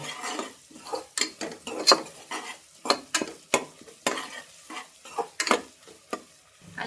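Ginger-garlic paste for a village-style country chicken curry fries in a hot pan while a spoon scrapes and stirs it in quick, repeated strokes over a steady close sizzle.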